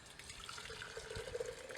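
Hot, just-boiling liquid poured gently from a pot into a glass jar, a steady splashing, gurgling pour that rises slightly in pitch as the jar fills, close and alone.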